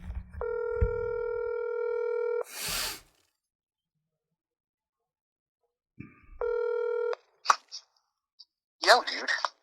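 Phone call being placed for a round of phone roulette: two long, loud multi-tone ringback or dialing tone bursts separated by silence, with clicks and brief noises between.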